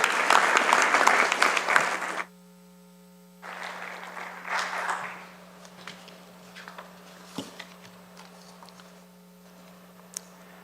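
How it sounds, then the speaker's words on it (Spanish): Audience at an administrative law panel applauds a speaker, a dense burst of clapping for about two seconds, then a pause over a steady hum, followed by a second, softer wave that thins into scattered claps. "Le damos un fuerte aplauso al doctor Omar García Luna"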